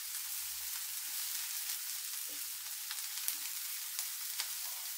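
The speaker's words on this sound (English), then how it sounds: "Gotta caramelize the onion." Onions sautéing in a pan for mussels in white wine butter sauce, a continuous bright sizzle with occasional soft stirring scrapes and small pops, close and steady with no talk.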